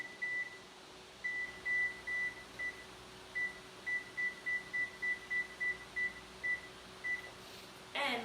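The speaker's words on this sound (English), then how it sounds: "start your oven." A kitchen oven beeps as its buttons are pressed to set it to preheat: scattered single beeps, then a quick regular run of about a dozen short tones and a final beep, close over a faint steady hum.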